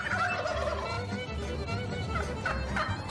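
A wild turkey gobbles in rapid rattling bursts, fairly close and clear over a low outdoor rumble, with repeated calls through the short stretch.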